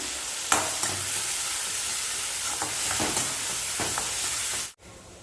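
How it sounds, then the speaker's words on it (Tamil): Tomatoes and onions sautéing in a pan, a loud, steady, hissing sizzle with a few stirring clicks, heard alone before it cuts off abruptly near the end. "தக்காளி வதங்கிக்கிட்டு இருக்கு."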